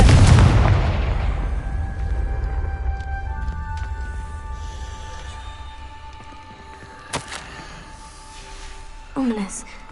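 The Confringo spell in Hogwarts Legacy explodes with a loud, close boom that decays into a long rumbling tail, followed by faint ringing tones and a few small pops.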